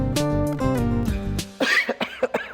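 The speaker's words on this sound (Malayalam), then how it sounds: "ചുമയുണ്ട്." A person coughs in several rough bursts during a doctor's consultation scene. The coughs come after a steady humming tone, close and fairly loud.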